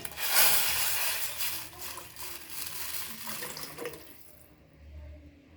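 Water poured into a pot of pepper rasam while cooking, a loud rushing splash at first that eases into a steadier pour, then tapers off and stops, with no talking.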